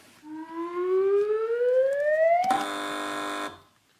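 A game show buzzer is pressed by a team on a topical British panel quiz, giving a rising whooping tone that ends in a loud, sustained electronic buzz lasting about a second before cutting off.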